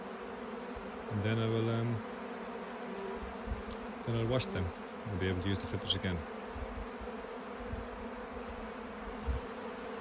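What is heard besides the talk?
bees cleaning honey from wax filters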